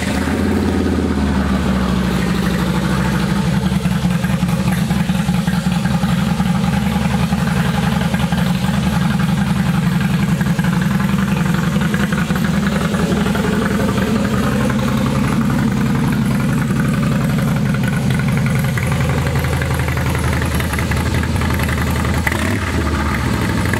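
A 2017 Harley-Davidson Softail Slim S motorcycle engine, exhaust baffles removed, runs at idle with a loud, steady, throaty rumble, its tone shifting slightly near the end.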